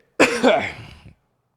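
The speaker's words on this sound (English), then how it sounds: "Why are you coughing like that, bro?" A single harsh cough, close and loud, lasting about a second before silence.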